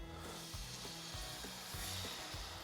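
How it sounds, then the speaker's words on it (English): White wine poured into a hot pan of vegetables to deglaze, producing a soft, steady hiss and sizzle with rhythmic low scraping of stirring, faint and close, with no talking. "We're gonna add a little bit of white wine to deglaze."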